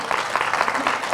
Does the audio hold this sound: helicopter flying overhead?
no